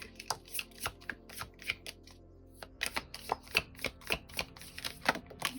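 Tarot and oracle cards are shuffled by hand in repeated quick bursts of papery slaps and riffles, close and crisp, with brief pauses between handfuls.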